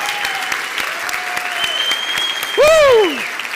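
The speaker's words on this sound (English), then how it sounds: "tremendous round of applause for Pep." Sustained applause from a conference audience for the event host, dense clapping with a loud whooping cheer rising and falling near the end.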